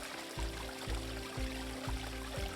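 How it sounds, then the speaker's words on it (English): Pond waterfall running nonstop just outside a bedroom window, a steady soft splash and trickle of falling water with a low rhythmic gurgle repeating about every half second, faint and close. "It has a waterfall going"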